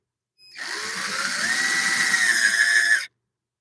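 A power drill spins steadily for a few seconds, whirring close and loud as it drives screws down on a woodturning lathe setup.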